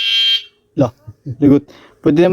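An e-bike's high electronic reverse warning beep sounds briefly at the start, then a person talks over a quiet background.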